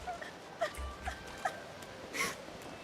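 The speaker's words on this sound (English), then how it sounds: "You hear a small whimpering sound from behind a basket." A small child whimpers from behind a basket in the Divinity: Original Sin 2 video game, a few faint, short whining cries spaced apart over a quiet background.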